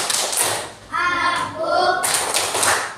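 Children in a classroom chant the tepuk fokus clapping routine, their sing-song voices mixed with short bursts of hand claps and taps, close and lively.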